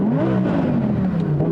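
A 2020 Audi R8 mid-engine V10 exhaust in loud mode revs with a rising, raspy roar, held briefly at high pitch.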